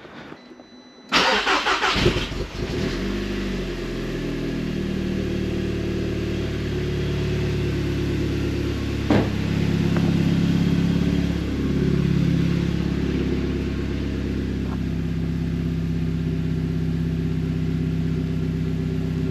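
A Stage 2+ tuned Audi TT Mk2 (8J) engine cranks and fires after a second of quiet, then settles into a loud, steady idle close by with a few small blips of revving, and nobody speaks.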